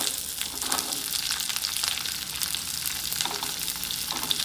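Chana dal fries in a pan as it turns light brown, giving a dense, even crackling sizzle that holds steady throughout, close and moderately loud, with no voices.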